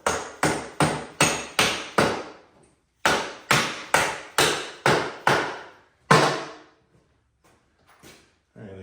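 Hammer driving an axle through the wheel of a Suzuki V-Strom motorcycle in a workshop: two bursts of five sharp, evenly spaced strikes, then one heavier blow and a few faint taps, all near and loud with no talk.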